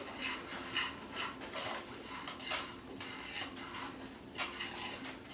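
Flour is worked into the fat at the bottom of a pan for a roux, giving light scraping and clinking of a utensil against the pan in uneven strokes, soft and close, alone without talk.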